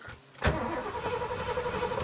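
A vehicle engine, called the beast, turns over after a quiet moment and settles into a steady running rumble, heard from inside the car on a road trip in British Columbia.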